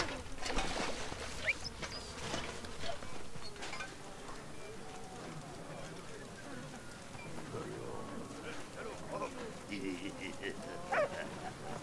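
Dog barking and whimpering in the video game Soldats Inconnus, set at the Battle of Verdun, heard in short yips and whines over a busy, continuous game soundscape.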